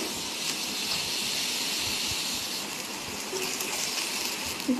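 Onion paste frying in oil left over from frying eggs, a steady loud hiss and sizzle that holds evenly throughout, with a few faint clinks near the end.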